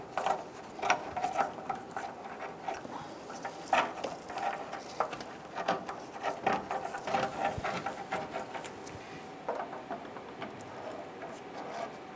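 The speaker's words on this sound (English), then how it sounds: "we can go ahead to the passenger side and get those bolts installed" Ratchet tightening bolts on a 1997-2006 Jeep Wrangler during work on the exhaust and transmission area; fast, continuous mechanical clicking with a steady rhythm, close and moderately loud, with no talking.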